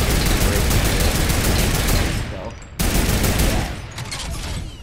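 Rapid gunfire in Fortnite, dense overlapping shots in a loud fusillade that cuts off abruptly and then resumes before fading, with no talking.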